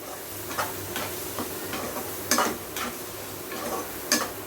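Spices, ginger and garlic sauté in hot oil for a chicken filling, a soft continuous sizzle broken by sharp spatula scrapes and taps against the pan at irregular intervals.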